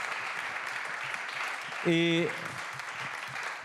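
An audience at a French conference on development models breaks into applause, a broad clapping wash that swells briefly in the middle and continues under a short spoken word.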